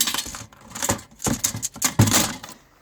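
Loose plastic pieces of a smashed HP keyboard handled up close, with several sharp rattles, clacks and clicks in quick irregular bursts.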